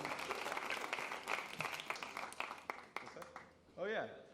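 A live audience at a concert claps and cheers in a dense, sustained burst with sharp individual claps cutting through, fading toward the end as a voice and other sounds come in.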